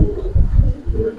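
Male Giribaz pigeon cooing close by in low, throaty pulses that swell and fade in a steady rhythm, with no talking.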